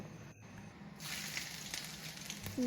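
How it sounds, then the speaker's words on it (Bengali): Chopped ginger and then chopped onion sizzling in hot oil for a flattened-rice pulao, a faint crackle that swells into steadier frying hiss as the onion goes in. "গরম তেলে আদা কুচি ফোড়ন দিয়ে তারপর পেঁয়াজ কুচি দিয়ে দিলাম এবং লাল লাল করে ভেজে নিলাম"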